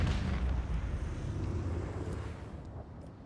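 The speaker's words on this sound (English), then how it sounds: "Let the macro cannons sing their deadly litany." Macro cannons firing on a warship in the video game Rogue Trader, a heavy rumbling barrage of deep booms and roaring blasts that fades slightly toward the end, fairly faint with no talking.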